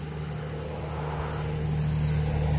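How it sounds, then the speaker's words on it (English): Night crickets chirp in a steady, continuous drone outdoors in North Port, Florida, close and moderately loud with a constant low hum underneath and no talking. "This new microphone, no matter how I turn it down, you hear every cricket."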